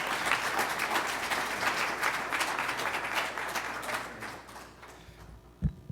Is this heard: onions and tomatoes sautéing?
no